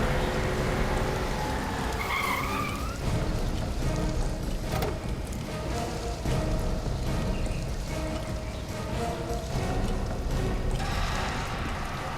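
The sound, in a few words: car arriving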